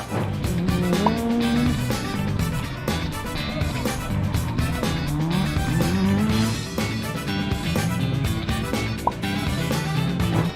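Toyota Mark II driven hard, engine revving in repeated rising surges with intermittent tire squeal, loud and close throughout.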